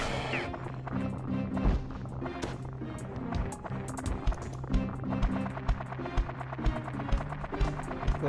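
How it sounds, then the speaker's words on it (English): Mole enemy stomping in the Dark Cloud video game, heavy rhythmic thuds repeating over a steady game soundtrack throughout. "I hear them stomping, I can't see them though."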